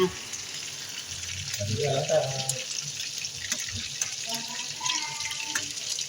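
Water poured into a sautéed dish frying in a pan, a brief splashing gush that swells over the steady sizzle around the two-second mark and then settles back into frying.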